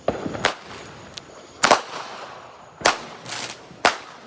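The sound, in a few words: fireworks or firecrackers going off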